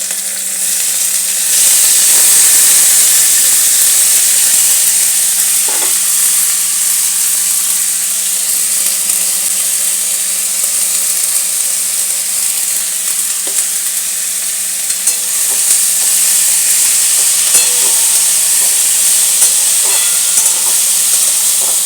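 Chopped vegetables for Bengali veg chops frying in a pan: a loud, continuous, close-up sizzle and hiss, broken by occasional scrapes and knocks of stirring, with no talking.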